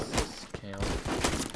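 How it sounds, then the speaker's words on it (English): Rapid gunfire crackles in a Roblox first-person shooter game, with several quick close shots in a short burst. Brief excited voices sound between the shots. "Oh my god, I shot you"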